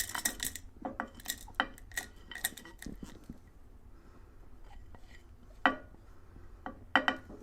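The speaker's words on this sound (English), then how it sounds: "So you got your wet ingredients. Go ahead and put it all in the pot." Homemade natural deodorant's wet ingredients are tipped into a pot, with close metallic clinks and taps of containers and utensils against it in irregular bursts, a quieter stretch, then a few sharper clanks.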